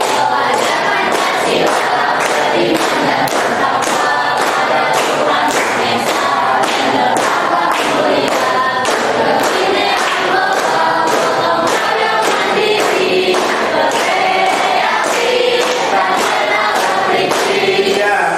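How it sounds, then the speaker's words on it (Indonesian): A classroom of students standing and clapping their hands in rhythm while singing together, the claps landing in a steady, regular beat that runs loud and continuous throughout. "Mulai sekarang sambil tepuk tangan."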